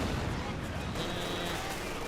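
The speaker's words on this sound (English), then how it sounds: "And there you go, got the Katyusha firing." Katyusha rocket artillery firing in Company of Heroes 2, a dense, loud, continuous roar of launches and blasts filling the whole moment, with no talk over it.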